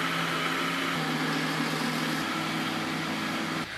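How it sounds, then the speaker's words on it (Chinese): A juicer whirs steadily as it juices chopped, washed spinach with a little water added, a continuous motor hum with a slight shift in pitch midway and a drop near the end. "洗净的菠菜切碎榨成汁。"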